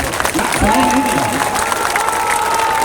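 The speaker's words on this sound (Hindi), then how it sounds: "अब बजा लो ताली" A crowd claps and cheers in a dense burst of applause, with voices shouting among the clapping.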